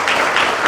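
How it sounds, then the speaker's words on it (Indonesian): A church congregation bursts into loud, dense clapping during a worship service, heard only as a brief moment of applause. "Tepuk tangan buat Tuhan Yesus."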